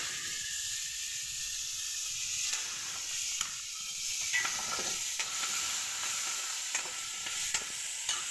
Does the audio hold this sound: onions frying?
yes